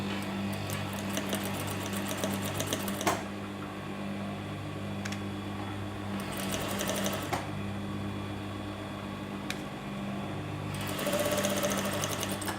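A sewing machine stitching a plain seam runs with a steady, close mechanical hum and rapid needle chatter, pausing briefly with clicks before resuming, and growing louder near the end with no talk.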